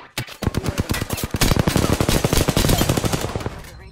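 Rapid automatic gunfire in the Apex Legends video game, a loud close burst of dense shots that runs for several seconds and then cuts off, with no voices over it.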